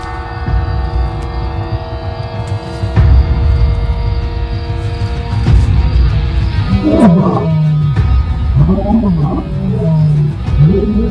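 Mapogo lions roar at night in the bush around a lodge: deep, repeated grunting roars that swell in the second half over a steady low hum, with a voice speaking across the sound.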